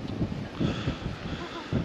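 Wind buffets the microphone outdoors on a sunny, blustery day, a low rumbling gusty roar with swelling bursts throughout the short stretch, no voices.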